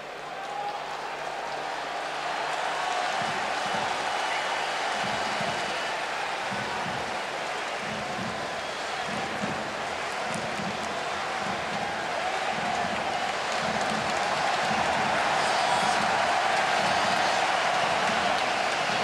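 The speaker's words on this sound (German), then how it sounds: "Der Applaus, den Sie vielleicht im Hintergrund hören, der gilt Peter Stöger" Sustained stadium applause at a 1998 World Cup qualifier between Austria and Sweden, greeting substitute Peter Stöger as he comes on; a broad, steady wash of clapping from a large crowd, loud and continuous throughout.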